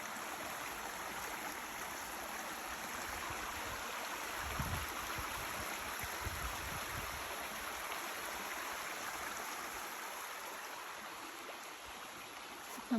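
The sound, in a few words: stream water flowing near lake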